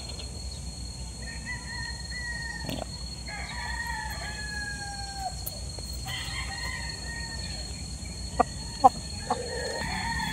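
A white Kelso gamefowl rooster crows at a game farm, its calls rising and falling against steady outdoor background noise, with several other crows and a few sharp clicks following.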